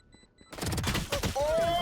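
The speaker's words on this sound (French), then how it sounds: "ça tire 3 balles par 3 balles en visée" Gunfire in the game Valorant from a weapon shooting three-round bursts, rapid cracks erupting after a brief quiet start and continuing densely amid game effects and a faint voice.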